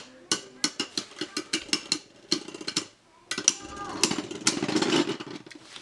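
Beyblade Burst spinning tops clash in a stadium: a quick run of sharp, evenly spaced impacts, then a short lull and a dense, sustained whirring scrape of tops grinding against each other, loud and close.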